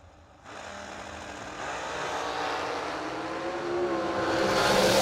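A nitro dragster racing at a New Year Nationals event launches and roars down the strip, a loud broadband engine blast that swells steadily and grows louder over several seconds, with no talk.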